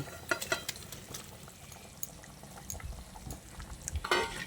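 Fried potatoes being stirred into a simmering vegetarian aloo dum gravy in a pot, giving scattered close scraping and clinking taps over a soft bubbling, wet background, with a louder cluster of stirring near the end.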